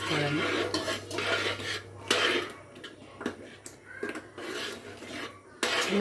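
A utensil stirs upma semolina in a pan, giving slow, irregular scraping and rasping strokes against the metal with short pauses between them, close up and fairly quiet.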